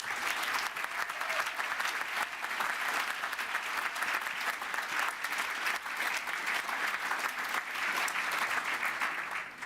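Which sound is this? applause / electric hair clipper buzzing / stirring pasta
applause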